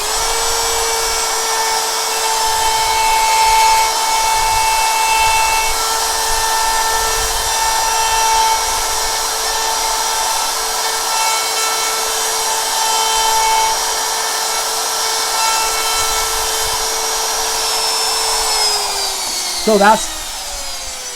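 Router cutting sharp inside points in wood, a loud steady high whine with a constant tone that holds for most of the clip, then winds down near the end, followed by a few brief spoken words.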